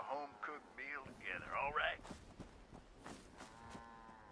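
Cows mooing in the video game Fallout 76, several drawn-out lowing calls in quick succession, fairly close, followed by scattered footsteps and small clattering sounds.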